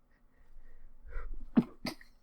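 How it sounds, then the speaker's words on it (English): A person sneezes once, close and fairly loud, with a sharp burst followed by a second short explosive breath, after some quiet breathing and low background hum. "Sorry, sneeze."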